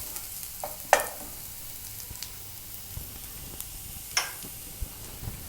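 Ginger frying in oil in a home kitchen for chilli chapati: a faint, low sizzle with a few sharp pops and clinks from stirring, no voices.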